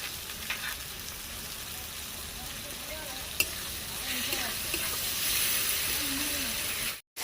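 Potato and eggplant sauté with mustard-poppy paste in a home-style village kitchen pan, giving a steady close sizzle with soft stirring scrapes throughout, then a sudden cut-off near the end.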